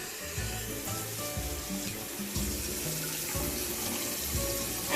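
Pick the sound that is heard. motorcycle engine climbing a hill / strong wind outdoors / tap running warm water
tap running warm water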